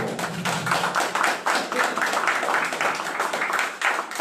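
Crowd of townspeople clapping at an open-air political rally in Manchay, fairly close and steady, with individual sharp claps standing out from the dense group rhythm.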